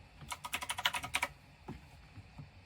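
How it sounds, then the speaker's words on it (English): Quick bursts of typing on a computer keyboard, a rapid cluster of soft clicks followed by a few scattered keystrokes, fairly quiet and close. "I don't know if you can hear my keyboard."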